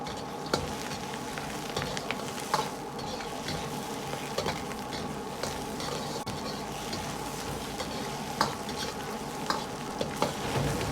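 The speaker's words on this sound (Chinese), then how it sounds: "接着放入姜葱煸炒出香味" Pork ribs stir-fried with ginger and scallion in a wok for a radish and rib soup, with a loud continuous sizzle and frequent scraping clinks from the spatula at a steady tossing rhythm.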